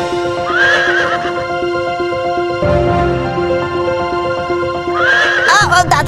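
Horses harnessed beside a chariot give two loud, shrill whinnies, one near the start and one near the end, over a dense, continuous backdrop of hooves and busy ambient noise.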